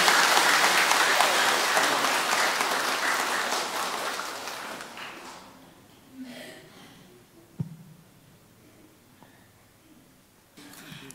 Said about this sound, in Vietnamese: Chúng ta nổ một tràng pháo tay để chúc mừng cho anh chị.